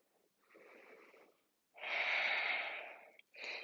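Breathing in a yoga pose during a power workout: a softer inhale, then a long, strong, close exhale through the mouth, followed by the start of another breath.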